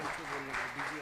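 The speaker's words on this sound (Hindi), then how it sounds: "तो एक बार ज़ोरदार तालियां हो जाए डीजी सर के लिए।" An audience applauds the DG at a lamp-lighting ceremony at Lovely Professional University, with steady, moderately loud clapping and voices faintly mixed in.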